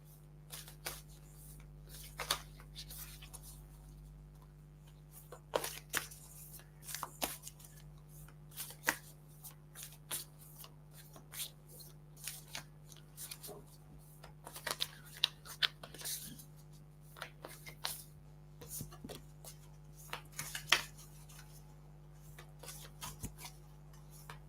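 Starseed Oracle cards are shuffled and picked during a quiet reading, giving soft papery riffles, flicks and light taps that come in irregular bursts over a steady low hum, with no talking.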